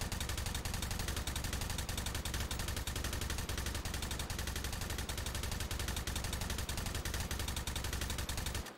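Rapid, continuous automatic gunfire from a gun in the video game Hot Dogs, Horseshoes & Hand Grenades, a dense unbroken stream of shots lasting several seconds at moderate level before cutting off abruptly.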